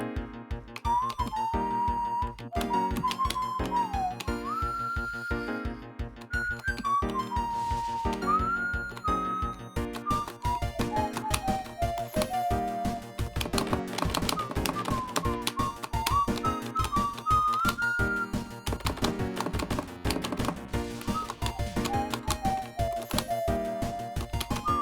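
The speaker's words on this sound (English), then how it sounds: "Can't hold my whistle that long." A person whistles a wavering melodic tune over steady rhythmic music from a rhythm game session, the whistle sliding between pitches and holding notes above a constant beat.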